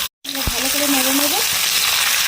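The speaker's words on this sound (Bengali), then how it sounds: "ভালো করে নেড়ে নেব।" Chopped vegetables for Bengali shukto sizzle in hot oil with five-spice tempering and bay leaves as they are stirred in a pan, a steady close frying hiss with a few scraping knocks.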